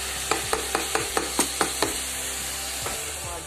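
Tomatoes and spices roasting in a hot pan, with steady sizzling under a string of sharp scraping stirs, about eight quick strokes in a row, then a pause and a couple more.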